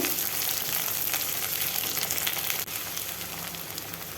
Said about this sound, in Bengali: তারপর দিয়ে দিলাম কেটে রাখা আলু আলুটা দিয়েও কিছুক্ষণ সময় ভেজে নিতে হবে